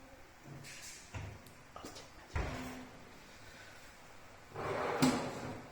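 An oven door on a CNC membrane-front kitchen cabinet is opened and closed, giving a few soft clunks and sliding thumps at close range, with a louder rumble of movement near the end.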